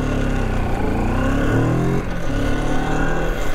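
A Moto Morini X-Cape 650 motorcycle pulls away, its mid-pitched engine droning and rising steadily in revs, loud and close throughout with no speech.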